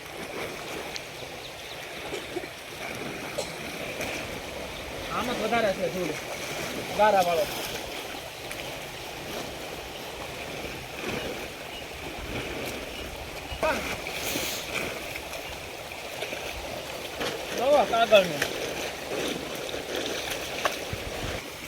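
A village stream flows and splashes steadily nearby as someone washes paper in the water, and people talk over the running water throughout.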